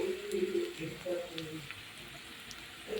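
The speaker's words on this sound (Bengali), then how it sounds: "পেঁয়াজটা ভাজার পরে দিচ্ছি রসুন কুচি" Chopped garlic goes into a pan of fried onions while cooking fenugreek greens with peas, a soft steady sizzle close by with light stirring and no talking.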